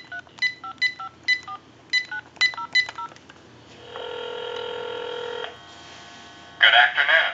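A rapid series of distinct touch-tone beeps dials a number on a General Electric cordless telephone, followed by a steady tone and then a short burst of ringing.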